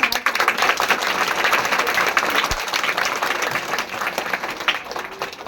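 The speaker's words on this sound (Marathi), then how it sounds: "एकदा जोरदार टाळ्या होऊन जाऊ दे" An audience claps at a school farewell ceremony for an 8th standard class, dense, sustained applause from a crowd, fairly loud and continuous throughout.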